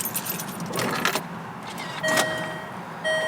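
A Land Rover Freelander, previously troubled by cold starting and fitted with a new camshaft position sensor, cranks and fires in a short loud burst amid jangling keys, followed by a steady hum and repeated electronic dashboard tones.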